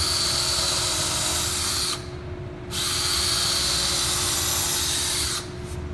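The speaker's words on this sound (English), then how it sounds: "and I'll drill through these two" A power drill bores through two stacked wooden leg boards at a table edge, giving a loud, steady high-pitched whine with a brief dip in load partway through and another near the end.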